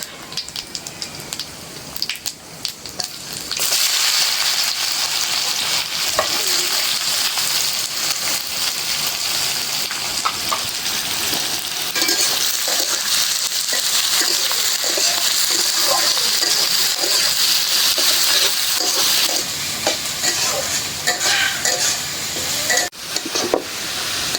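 Onions hit hot oil in a pan already holding cardamom and cumin, and a loud, steady sizzle of frying takes over after a quieter start, with occasional stirring scrapes and a voice talking at times.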